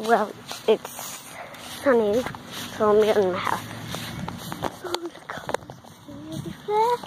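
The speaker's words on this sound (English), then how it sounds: "That's my dog, guys." A pet dog barks, yips and whimpers in short bursts at close range, mixed with footsteps and someone talking over and between the sounds.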